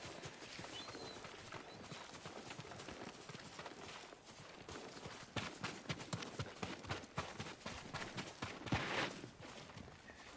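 Faint, steady hoofbeats of horses trotting in the video game Ghost of Tsushima, with soft rustling and scuffing in the background.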